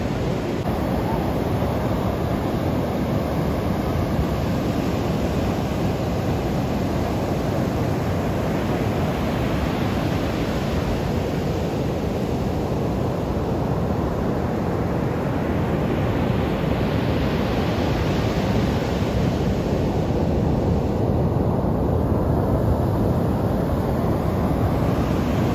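Large ocean waves roll in at Pawikan beach resort in Morong, Bataan, making a continuous loud roar of surf that swells and fades. Wind buffets the microphone throughout.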